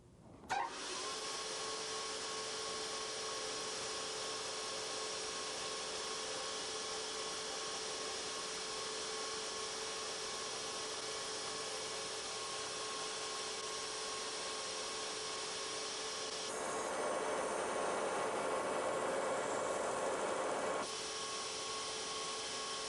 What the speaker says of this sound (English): We'll be grinding the major blade bevels.